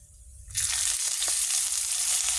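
Whole red chili, bay leaf, whole garam masala, cumin and onion paste hit hot oil, bursting into a loud, continuous sizzle after half a second of quiet, with a few crackles and spatters.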